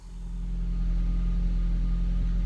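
An Audi TT with a 1.8T engine cranks without starting, a steady low mechanical rumble that builds in the first half-second and then holds, close and alone without talk.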